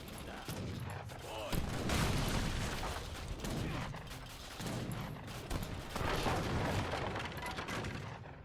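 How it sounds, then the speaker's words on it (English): Heavy cannons firing in the Age of Empires III: Definitive Edition historical battle at Chuvash Cape, 1582: a dense, continuous clatter of booms and gunfire with mechanical rattling, loud and close, with no talk over it. "Yeah, we got heavy cannons, man."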